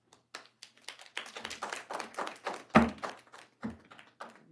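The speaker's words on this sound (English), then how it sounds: "please hold your applause" Scattered audience applause at a city council regular meeting, a ragged burst of claps building then trailing off in a few separate spurts, fairly faint in a quiet room.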